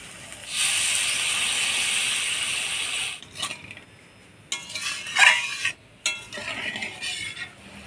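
Water splashed into fried masala in a hot pan sends up a loud, steady steam hiss for a few seconds, then it dies down to scattered stirring scrapes and short bursts of sizzle.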